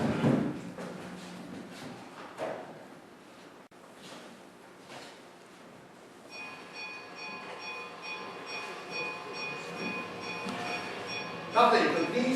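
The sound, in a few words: recorded train sound effect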